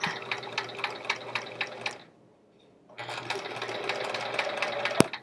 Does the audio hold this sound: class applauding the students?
no